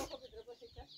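Chickens with small chicks in a home yard, a few soft, close clucks in quick succession over about a second, faint and alone.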